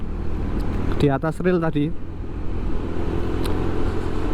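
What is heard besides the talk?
cars driving in and out on a road in Malang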